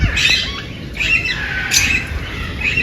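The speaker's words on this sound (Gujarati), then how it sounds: "અને આ છે લવ બર્ડ." A lovebird at a zoo aviary squawks in short, harsh bursts, several calls spread across a few seconds against a busy background of other bird chatter.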